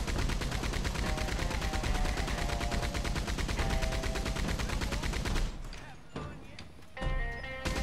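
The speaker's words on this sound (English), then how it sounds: "I'm on the minigun again." Rapid, sustained minigun fire from Red Dead Redemption 2 pours out loud and dense for about five seconds, then gives way to scattered shots and game noise.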